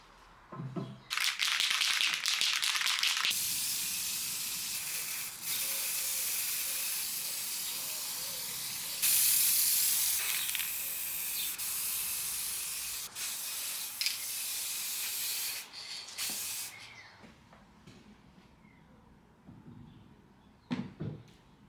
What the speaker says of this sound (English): I go with a semi-gloss spray on the legs